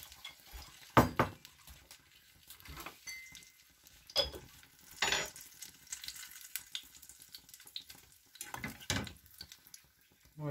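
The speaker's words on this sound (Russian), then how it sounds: "Еще в маленькой сковородочке еще удобнее жарить," Food fries in a small frying pan in a home kitchen, giving a faint steady sizzle broken by scattered clatters and clicks of utensils and dishes.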